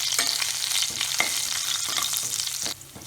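Curry leaves crackle and spit in hot oil with green chillies for poha, a steady dense sizzle with sharp pops throughout that eases off slightly near the end.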